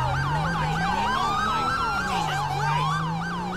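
Police car siren in GTA V with the LSPDFR mod, a loud, close, rapidly warbling yelp cycling steadily over a low engine hum, with no talk.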